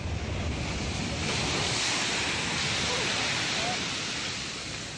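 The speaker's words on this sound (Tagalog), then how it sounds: "Walang humpayang hampas ng alon pagising kanina ng mga taga-Virac, Catanduanes." Storm surge waves from Super Typhoon Pepito pounding the shore at Virac, Catanduanes, a continuous loud roar of surf and wind with no break, fading slightly at the end.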